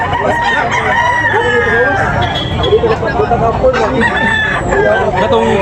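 Roosters crow repeatedly and hens cluck amid a busy chicken market in Tabunok, with crowd babble and people talking throughout.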